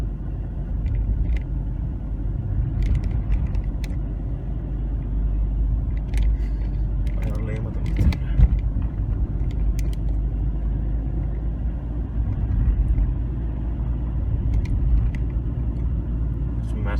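A Hyundai i20 car drives along in a lower gear after a downshift, with a steady low engine and road rumble that persists throughout, heard from inside the cabin with occasional faint knocks.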